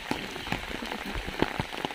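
Steady rain pattering on a surface nearby, with scattered drops tapping irregularly and no voices.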